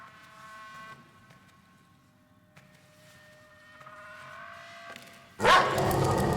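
A dog barks in the horror game Layers of Fear, with faint, scattered barks over a quiet hum before a sudden loud burst of noise near the end.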